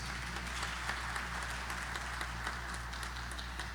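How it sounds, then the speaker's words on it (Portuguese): A congregation applauds for Jesus during a couples' church service, a steady wash of clapping from many hands, fairly distant and even, over a low constant hum. "dê uma salva de palmas para Jesus"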